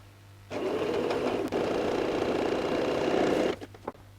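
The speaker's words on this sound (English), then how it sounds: "we're going to go and sew the other shoulder as well" Sewing machine running a shoulder seam on a stretch-fabric T-shirt in one continuous three-second burst of steady, close mechanical whirring that starts and stops abruptly, with no voices.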